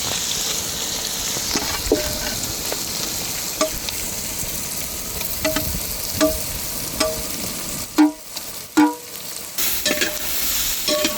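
Onion, capsicum and masala fry in oil for a capsicum-onion pachadi, giving a steady close sizzle broken by several sharp scraping stirs and a few louder clanks near the end.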